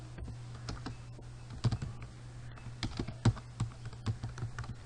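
Typing on a computer keyboard while coding in Bootstrap 4: a run of quick, irregular key clicks with a few louder taps over a low steady hum, close and clear, with no voices.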